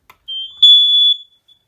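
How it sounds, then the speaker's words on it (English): A First Alert smoke detector sounds after its test button is pressed: a loud, piercing electronic tone that starts, jumps louder for about half a second, then cuts off, with no voices. "if I press this button, it'll set off all the alarms in the house"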